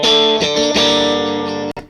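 Clean electric guitar through a Matchless amplifier into a closed-back 4x12 cabinet, a ringing sustained chord with a couple of restrikes, loud and alone, cut off sharply near the end.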